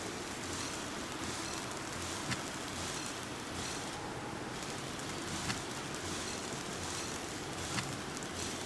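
Rain falls steadily in the Planet Nomads video game, a soft, even hiss with faint scattered drop taps throughout, no voices.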